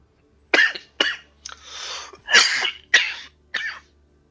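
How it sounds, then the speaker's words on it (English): A person coughs six times in close succession, harsh and near, with short pauses between bursts. "Apologize for the coughing."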